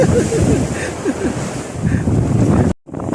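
Very strong wind roars into the microphone beside a fishing boat at sea, with waves and surf mixed in. The gusts are loud and continuous, then cut out abruptly near the end.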